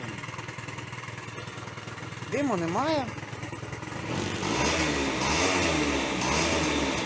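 A small smoking two-stroke Honda Dio scooter engine, misfiring and not holding revs, starts and idles with a buzzing rattle, while a person speaks briefly over it near the start.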